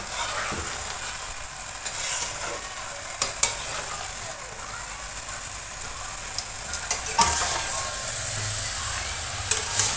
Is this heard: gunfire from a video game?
no